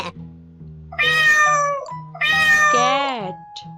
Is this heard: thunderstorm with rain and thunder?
no